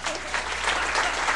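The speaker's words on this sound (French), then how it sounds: "On les applaudit bien fort." Audience at a hypnotist and magician's comedy show breaks into loud, dense applause, a steady roar of clapping from a full room with no talk over it.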